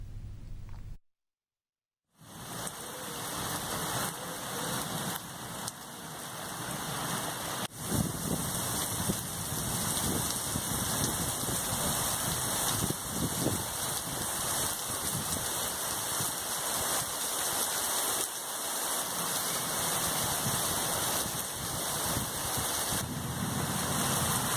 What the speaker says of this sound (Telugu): విశాఖలో ఉరుములు మెరుపులతో భారీ వర్షం కురుస్తోంది.